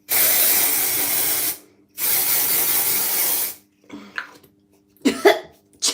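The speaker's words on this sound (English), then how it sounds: "Let me green hair dye it for now." Two long bursts of aerosol spray from a can of green hair dye, each about one and a half seconds, followed by a few short coughing or throat sounds.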